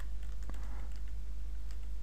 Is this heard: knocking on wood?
no